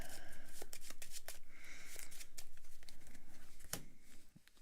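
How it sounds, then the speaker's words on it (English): Cards from a Transformers deck-building game are riffled and shuffled by hand in a close, steady run of papery flutters and snaps, with a few sharper taps near the end. "so I'll shuffle this up and draw my extra card."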